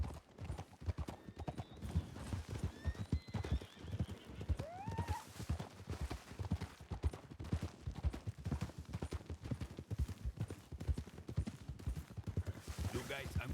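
Horse hooves clip-clop in a steady, rapid rhythm throughout a western roleplay video game, with a single clear whinny partway through, and faint voices in the background.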